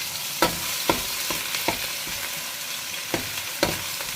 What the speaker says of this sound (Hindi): ये अदरक लहसुन का पेस्ट बनाया हुआ है ये मैं डालूँगी। इसको हल्का ब्राउन करना है।